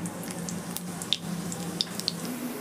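Chopped onions frying in hot oil with cumin seeds for tempering, giving a steady close sizzle with a low hum and a few sharp pops or drips.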